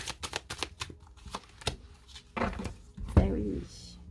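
Tarot cards shuffled by hand at close range: a quick run of crisp, rhythmic flicks and riffles, then a louder rustle and slap as a card is drawn and laid down, with no talking.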